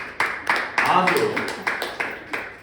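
A few sharp claps from a church audience sound at an uneven pace beneath a person talking, sparse rather than a full round of applause.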